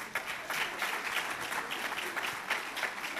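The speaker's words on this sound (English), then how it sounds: "We'd also like to give a big round of applause to Marina for a great job here all night." Audience applause at an indoor mobile marketing awards night, a steady dense clapping from a room full of people with no voices over it.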